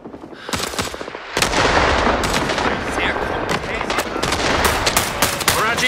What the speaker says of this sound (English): Barrage inbound. Take cover.